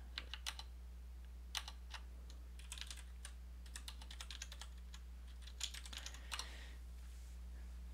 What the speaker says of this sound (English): let's type English